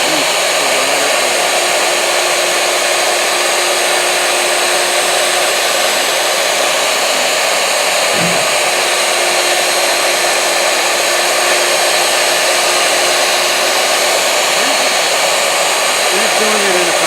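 A CNC router cuts a letter A about a sixteenth of an inch deep into a sign, giving a loud, steady high-pitched spindle whine that holds unbroken throughout, with a faint tone change near the middle.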